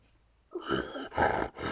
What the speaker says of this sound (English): The wolf, growling